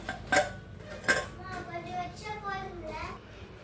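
A plate is set over a cooking pot to cover it, with two sharp ceramic-on-metal clinks close by, followed by someone talking softly in the background.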